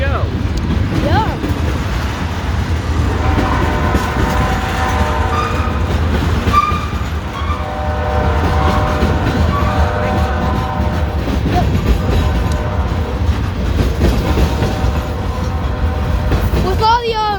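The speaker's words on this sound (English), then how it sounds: "I was predicting it was going to be a full locomotive lashup" A CSX freight train led by a five-unit lashup of EMD diesel locomotives rumbles past at close range, engines droning with rhythmic wheel clatter and squeal, heard continuously throughout.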